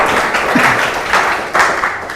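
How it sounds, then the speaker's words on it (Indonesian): A classroom of students applauding two classmates, a steady patter of claps that swells in short waves, fairly close, without any speech over it. "tepuk tangan dulu buat Mas Hafid dan Mas Yoga."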